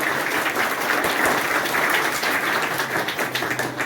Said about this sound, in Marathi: तुम्ही जरा जोरात टाळ्या तुमच्यासाठी